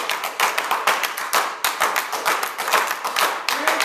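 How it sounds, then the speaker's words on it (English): Brisk hand claps in a Nyuchi rhythm, led by a percussionist, ring close and loud in a steady, syncopated pattern of sharp slaps with no voices over them. "Hand claps, please."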